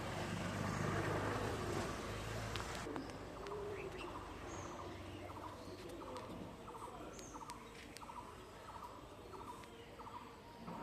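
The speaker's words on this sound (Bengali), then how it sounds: "আর একটি দেখুন সাদা পায়রা" White pigeons coo at a quiet temple, soft repeated calls trailing in a slow rhythm after a brief burst of louder bird noise at the start, fairly close and gentle against a hushed background.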